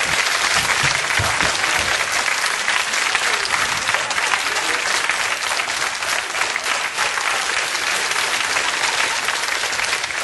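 Cabaret audience in a dance-class comedy sketch giving loud, sustained applause that stays dense throughout, with brief voices mixed in near the start.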